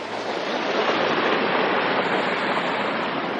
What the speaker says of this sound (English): Look at the size of this stream and waterfalls.